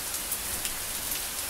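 Heavy thunderstorm rain pouring steadily, overwhelming gutters, a dense hiss of drops hitting surfaces, loud and continuous without voices.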